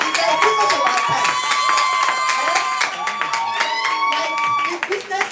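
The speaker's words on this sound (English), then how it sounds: "Can we continue clapping?" An audience claps together at a seminar, a dense, continuous patter of hands that stays strong for several seconds before thinning out near the end, with voices and a tonal background mixed underneath.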